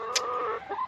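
A backyard chicken gives a single short, close cluck, with a brief squeak at the start.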